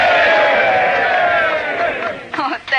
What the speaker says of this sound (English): A cheer for the little lady.